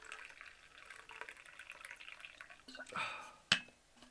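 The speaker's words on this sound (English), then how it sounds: "Nice and relaxing, coffee getting poured." Coffee trickles quietly into a new thermos flask, a faint liquid stream that swells briefly, followed by a sharp little clink near the end.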